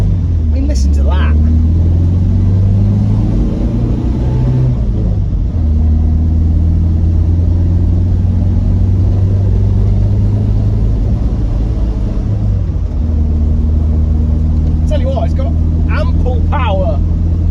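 An MGB sports car engine while driving, a loud low droning rumble whose pitch rises and falls through gear changes, with brief sharper sounds near the start and end.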